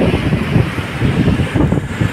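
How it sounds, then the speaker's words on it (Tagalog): Strong wind gusts loudly across the microphone at a waterfront construction site where steel pipes and piles are loaded onto a barge. It makes a heavy, close, buffeting rumble that surges and dips throughout, with no voices. "Uy, ang lakas ng hangin."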